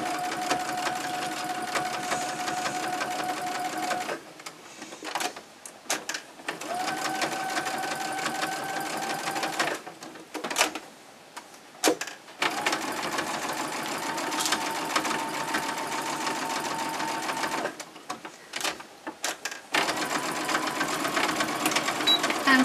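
A sewing machine stitches an exposed-core cloth pad in bursts of rapid, steady whirring, pausing briefly several times between runs of stitching.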